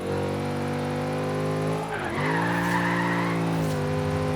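A Chevrolet Camaro SS drifting in Forza Horizon 3, with a steady engine drone that breaks into sliding tire squeal about halfway through and keeps squealing to the end. No talking.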